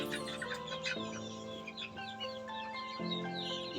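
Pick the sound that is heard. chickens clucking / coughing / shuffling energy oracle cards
chickens clucking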